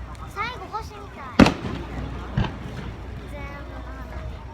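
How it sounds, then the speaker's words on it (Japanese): Fireworks at the Inagawa fireworks festival, a few distant bursts and crackles with one sharper bang, heard under nearby chatter from spectators. "全部の花火。"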